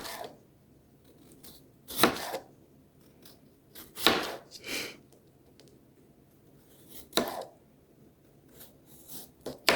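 A sharp kitchen knife slicing raw potatoes for au gratin, with crisp cuts arriving every couple of seconds over quiet room tone and soft handling sounds between strokes.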